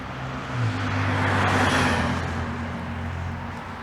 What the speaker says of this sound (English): Lots of big, loud vehicles